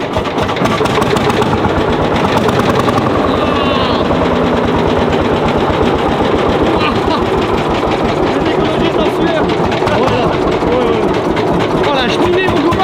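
A Lanz Bulldog tractor with a 10-litre two-stroke engine thumps in a loud, rapid, even beat close by as it is revved, with people talking over it.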